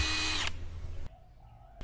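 An OSUKA OSID-520 cordless impact wrench runs in drill mode with a short, close, high motor whir that stops abruptly, then gives a fainter spin-down before a small click.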